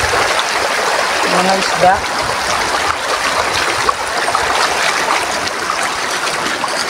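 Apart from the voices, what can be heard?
water splashing in a stream under a hanging bridge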